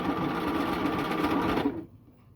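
A sewing machine runs a stretch stitch along the edge of T-shirt fabric, giving a close, steady whirring hum for under two seconds before it stops and leaves a quiet room.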